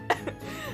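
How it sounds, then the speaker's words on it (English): A single sharp cough bursts out close to the mic, followed by a quieter second hack, with no talking around it. "I'm literally just coughing up a lung."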